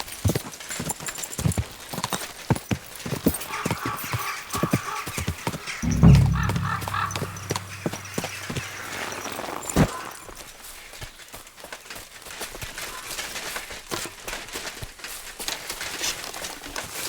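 Horse hooves clip-clop steadily and fairly close in Kingdom Come: Deliverance II. The rhythm runs throughout, with a louder rumbling burst partway through and soft outdoor ambience beneath.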